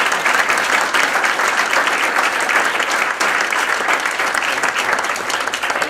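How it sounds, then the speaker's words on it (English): An audience at a university public policy panel on term limits gives the panelists a round of applause. The clapping is loud, even and continuous throughout. "Let's give our panelists again another round of applause."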